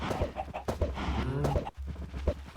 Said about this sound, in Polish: Lecz to są kury, a nie kurczaki.